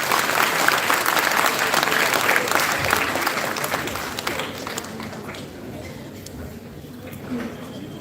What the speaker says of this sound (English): Could we have one collective round of applause for all the dignitaries,